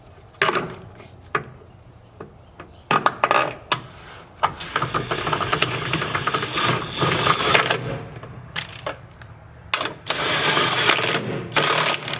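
A ratchet or impact tool tightens bolts on a Jeep Gladiator steering box in a shop, with repeated sharp mechanical bursts and clicks in quick irregular runs, close and loud.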